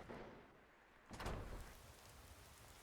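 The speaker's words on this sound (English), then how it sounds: "You can faintly like hear it pitter-pattering." Rain patters softly outside during a session of Skyrim, with a faint steady hiss and a brief swell of heavier drumming partway through.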